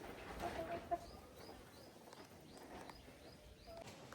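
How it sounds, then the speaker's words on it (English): Hens in a chicken coop on a farm in Ghana, with faint scattered clucks and soft bird calls in a quiet outdoor setting, plus occasional light rustling. "I'm here in the chicken coop."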